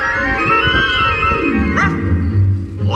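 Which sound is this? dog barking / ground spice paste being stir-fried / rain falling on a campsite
dog barking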